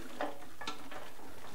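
Onions land in a pan alongside spices while preparing venison sausage, giving a soft, quiet sizzle with a few brief stirring scrapes.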